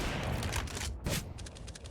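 Desert Eagle pistol fire in Counter-Strike, a dense burst of gunshots layered with other weapons and game ambience, loud and continuous with a sharp shot near the middle.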